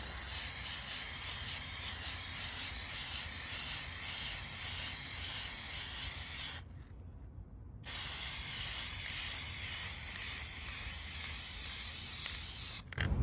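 An aerosol can sprays a coating in long continuous hissing bursts, close and loud, with one brief pause between sprays and no talking.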